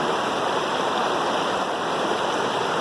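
A forest waterfall gives a constant, full rush of falling water, steady and close with no break or voices.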